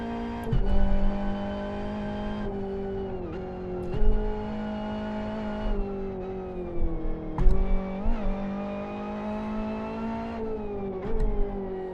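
A racing car in Live for Speed on the South City Sprint Track 2 reversed holds a steady, droning engine tone, with repeated rises and dips in pitch as it shifts and revs through corners. No one speaks.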